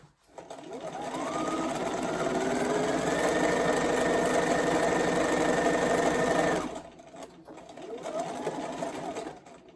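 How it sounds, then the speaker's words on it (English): Sewing machine fitted with a walking foot stitching through the fabric of a diaper stacker pleat, a steady loud mechanical whir for several seconds, then a pause and a shorter burst of stitching. "I'm sewing all the way through the side of the pleat until you get to that notch, back stitching"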